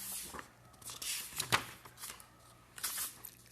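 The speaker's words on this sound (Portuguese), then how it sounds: "Estou folheando aqui" Pages of a book being flipped by hand, soft papery rustles and swishes in irregular bursts, close by in a quiet room.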